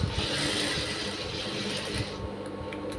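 A sewing machine stitches the lining of a blouse with a rapid, busy mechanical clatter that runs steadily and close by, without any speech.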